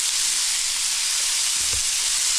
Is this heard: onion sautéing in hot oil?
yes